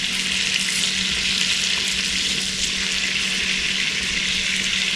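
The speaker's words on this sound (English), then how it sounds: "I'll turn the pan around like this and like this to get the butter to almost, fully submerge many of these shrimp as they're frying" Shrimp fry in a pan of butter, olive oil and garlic for Cajun fried shrimp, a steady dense sizzle running close and continuous throughout with no talk.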